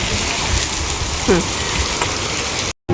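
Steady rainfall hissing on surfaces, with a brief faint voice in the middle and a sudden cut near the end.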